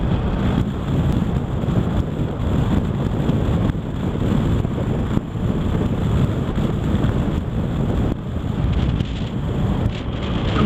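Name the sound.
BMW R1200RS motorcycle riding with wind noise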